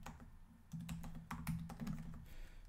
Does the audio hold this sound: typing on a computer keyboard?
yes